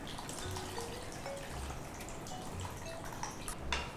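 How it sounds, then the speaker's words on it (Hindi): Tamarind water poured into a simmering fish curry, a steady close liquid trickle and splash running continuously with small drip-like accents, no talking. "पानी इमली का डाल लेते हैं"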